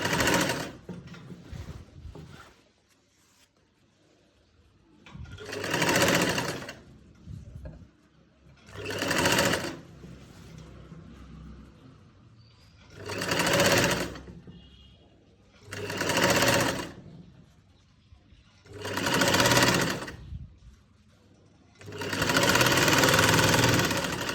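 A sewing machine stitches a bias strip around a round neckline in about seven separate runs of several seconds each, loud and near, with quiet pauses between bursts as the fabric is turned.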